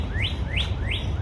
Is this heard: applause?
no